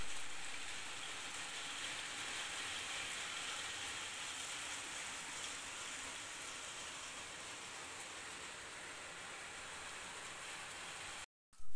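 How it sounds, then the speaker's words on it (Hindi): Steady rain falls, a continuous even hiss with no voices, cutting off abruptly near the end. "बट देखो बारिश स्टार्ट हो गई है।"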